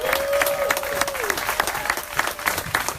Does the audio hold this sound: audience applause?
yes